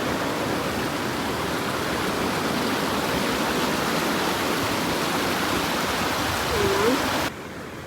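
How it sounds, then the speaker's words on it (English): A small side waterfall beside a canoe portage trail in Zec Kipawa, Quebec, gives a steady, close, full-band rush of falling water that holds level for about seven seconds, then drops off sharply near the end. "This little side waterfall here."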